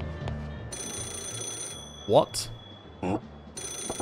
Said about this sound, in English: Ah, is that phone ringing?